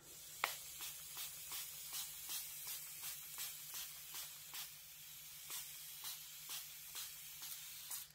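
An aerosol spray can releases a rapid series of short hissing bursts in a regular pulsing rhythm, close and fairly quiet, with no talking.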